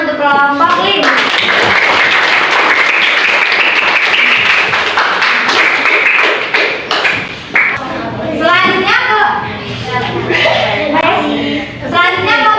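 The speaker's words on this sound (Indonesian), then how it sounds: "Kita beri tepuk tangan untuk kelompok 5." A classroom group claps for group 5 during a teaching-practice session, a loud burst of applause that fades after several seconds into chatter and children's voices.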